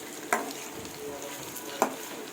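Paneer pieces frying in ghee in a kadai give a soft, steady sizzle. Two sharp clicks of a spoon or spatula stirring punctuate the quiet, close-up crackle.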